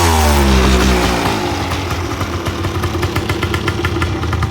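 A 1986 Honda ATC250R three-wheeler engine, loud and close, falls from a rev into a low, uneven, throbbing idle that keeps chugging steadily to the end.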